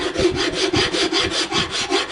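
Sandpaper rubbed back and forth over a wooden custom guitar neck in steady, even strokes, a close, rasping scratch repeating roughly every quarter second with no talk.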